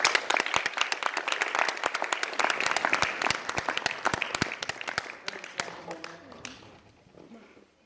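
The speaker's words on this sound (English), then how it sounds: "Let's give him a round of applause." A small group claps for a student signing with the University of Chicago, sharp individual claps close by that thin out and fade after about five seconds, with a few voices murmuring at the end.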